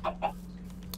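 Chickens in the Minecraft video game give two short clucks near the start, fairly quiet over a steady low hum, then only faint game noise.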